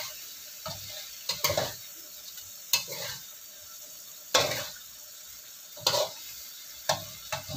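Beef rendang simmering in coconut milk is stirred in a pot, giving repeated scraping strokes every second or so over a soft, continuous sizzle.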